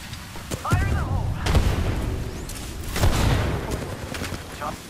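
Gunfire in the Apex Legends battle royale game: repeated loud shots and booming bursts in rapid succession, with players talking over the weapon fire.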